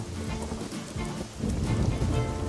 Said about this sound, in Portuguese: o céu escureceu e começou uma tempestade